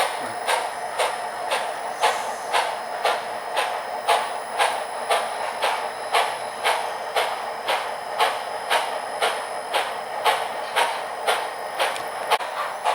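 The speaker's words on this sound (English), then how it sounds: "The train's now headed downgrade" An HO scale model train runs steadily downgrade, its wheels clicking in an even, regular rhythm of about two clicks per second, moderately close.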